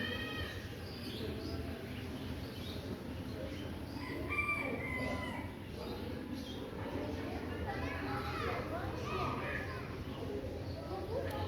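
A rooster crows several times in a farmyard, with hens clucking and other birds calling around it, set against a busy outdoor background with voices nearby.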